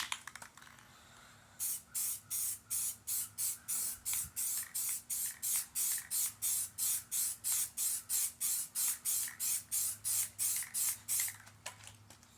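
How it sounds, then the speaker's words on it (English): An aerosol rattle can sprays primer onto a small car body panel for a 1931 Model A Ford hot rod: after a quiet start, roughly thirty short, evenly spaced hissing bursts follow close and loud. "normally I would use my paint gun, but it's such a small body panel, I'm just going to rattle can it."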